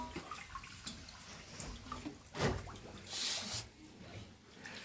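Running water splashes over a cooking utensil being washed at a sink in a home kitchen during biryani preparation, with intermittent gushes, drips and clatters in a close, uneven rhythm.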